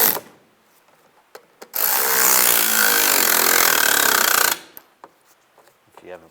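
A power driver tightens screws on the underbody panel of a 2004-2010 BMW X3: one loud, close whirring burst of about three seconds, framed by a few small clicks and handling noises.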